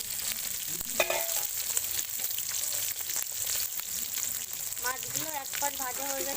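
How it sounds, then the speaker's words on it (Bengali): Bata fish fry in hot oil with a steady, crackling sizzle throughout, and a faint voice briefly rises near the end. "মাছগুলো এক পাশ ভাজা হয়ে গেছে, আর এক পাশ হবে।"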